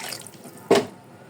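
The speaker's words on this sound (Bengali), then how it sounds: "দিব পানি" Water poured into a pot of small cubed potatoes with onion, garlic and chili, a single short splashing pour standing out over a quiet background.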